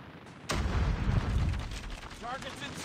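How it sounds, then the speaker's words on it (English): A grenade explodes in the Call of Duty Mobile shooter, hitting as one sudden loud boom followed by a long, heavy rumble that fades slowly, while a voice speaks faintly in the background. "That's a grenade."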